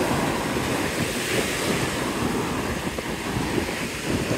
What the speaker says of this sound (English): Pretty decent sized waves today.